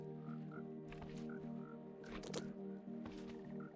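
Frogs croaking in Minecraft Bedrock Edition beta, a steady run of soft, repeated croaks over a humming game background, with a few brighter clicks and blips scattered across the few seconds.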